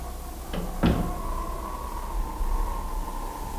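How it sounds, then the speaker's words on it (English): Two soft knocks, like doors shutting somewhere in a house, sound in quick succession far off. A steady low hum and hiss follow. "the doors go shutting far in the distance, gently knocking like the pulse of a heart"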